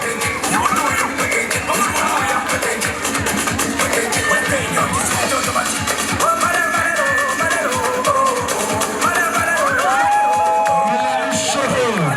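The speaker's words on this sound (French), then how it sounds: "On applaudit pour les enfants" Festive outdoor crowd at a summer activities closing event in Fribourg cheering, whooping and applauding for children, steady and loud throughout with excited voices and shouts mixed in.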